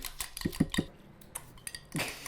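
A spoon clinks against a bowl while egg yolk is stirred into milk for a sugar tart, a quick cluster of three light taps then a single softer knock, faint and close.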